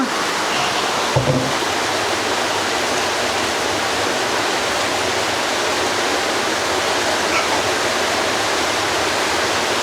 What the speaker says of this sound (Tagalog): lumakas na yung ulan